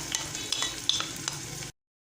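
Chopped onion and pepper fry in oil in a pan while being stirred, a soft continuous sizzle broken by a few scraping spoon clicks, close and brief before cutting off.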